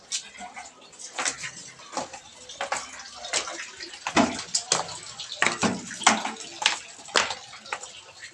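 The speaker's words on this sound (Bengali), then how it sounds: "কলে দেখুন না সর্বদা জল পড়েই যাচ্ছে" Water pouring steadily from a tap while a container fills on a rooftop, a continuous splashing stream with uneven spurts and drips, close and fairly loud.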